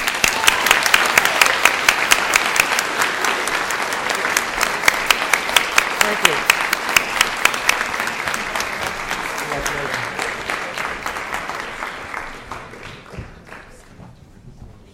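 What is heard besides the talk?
audience applause for scholarship students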